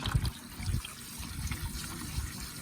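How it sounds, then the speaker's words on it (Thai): Water sprays and splashes onto a K&N air filter during a rinse, a continuous close gushing hiss with uneven spurts. "แล้วก็ฉีดน้ำอีกทีนึง"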